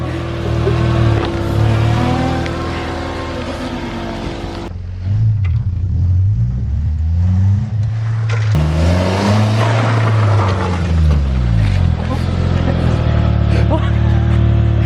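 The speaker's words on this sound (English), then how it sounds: "Wait, let me do a drift." A stripped-down car with only its bare frame revs and drifts, the engine note rising and falling in repeated swoops, loud and close, with people talking over it.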